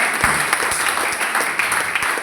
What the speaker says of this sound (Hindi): तो एक शानदार फिर ताली बजाएंगे ताकि सब लोग बैठ जाए।